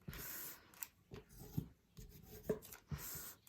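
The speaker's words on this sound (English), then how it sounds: "now I want to mash all those with the scissors handle to make sure I have really solid creases" A scissors handle mashes down on folded paper to press crisp creases, giving quiet intermittent rubs and scrapes with soft taps between them, close up in a quiet room.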